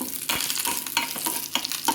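Tempering of seeds and curry leaves in hot oil being stirred in a pan for tomato rasam, loud continuous sizzling with repeated scraping strokes of the spoon, close and clear.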